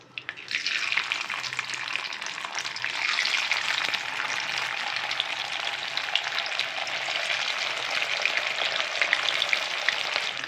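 Snake gourd chilli fry pieces frying in hot oil, a steady loud bubbling sizzle running continuously and close up without any talking.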